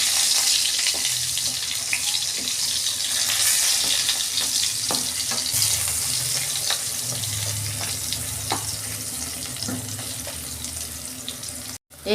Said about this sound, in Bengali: আমি পটলটা উল্টে ভেজে নিচ্ছি।